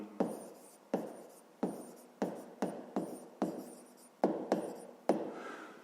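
Chalk or pen strokes during a fifth-grade maths lesson, about ten sharp taps each followed by a short scratchy trail, spaced evenly like quick writing on a board, close and clear with no voices.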